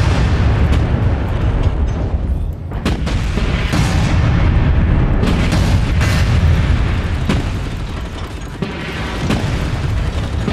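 Short, thuddy AC5 autocannon shots from the MechWarrior 5 game fire in a dense, loud, continuous barrage of booming reports, with no speech over them.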